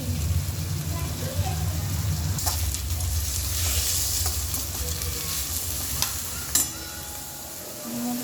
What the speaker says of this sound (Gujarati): આપણે નાખી દઈશું શિમલા મરચા